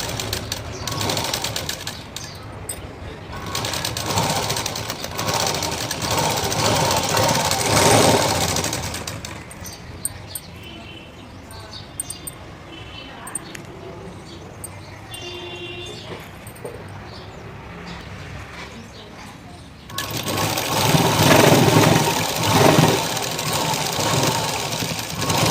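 A sewing machine stitching a blouse shape belt, running in loud bursts of rapid mechanical clatter at the start and again near the end, with a quieter stretch of faint handling noise between.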